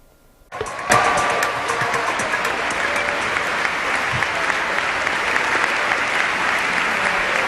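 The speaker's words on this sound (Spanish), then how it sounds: "Aplauden a la congresista Gabrielle Giffords." Members of the US House of Representatives applaud Congresswoman Gabrielle Giffords in the chamber; after a brief quiet moment, loud, sustained applause erupts and continues at full strength.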